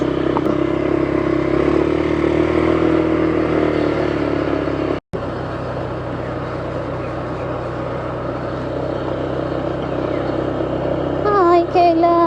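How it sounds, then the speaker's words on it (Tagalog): Papa's motorcycle engine hums steadily throughout a ride, a close and continuous drone with road rattle, while people talk over it; a brief dropout falls in the middle. "Nibinyagan natin ang motor ni Papa."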